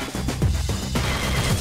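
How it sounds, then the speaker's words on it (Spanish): Rapid bursts of gunfire in Unreal Tournament, several loud shots fired in quick succession over a busy game soundscape. "escucho por aquí disparos"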